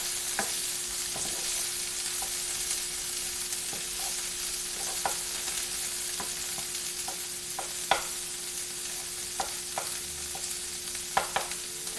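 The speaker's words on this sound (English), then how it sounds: "I'm moving the frozen vegetables to the outside edge of the pot" Frozen vegetables sizzle while being stir-fried in a pan, a steady frying hiss with a faint hum beneath, broken by sharp spatula scrapes and taps at irregular intervals.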